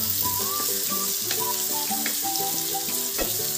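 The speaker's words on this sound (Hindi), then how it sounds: "तो प्याज गोल्डन ब्राउन होने तक भूनना है इसको।" Onions fry with green chilli and ginger in a pan for pav bhaji, giving a steady close sizzle with a melodic tune playing over it throughout.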